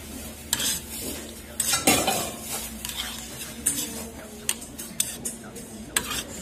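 Close, wet stirring of milmyeon, Busan cold wheat noodles, being mixed in a bowl, with soft clinks and scrapes of utensils against the dish in brief irregular bursts.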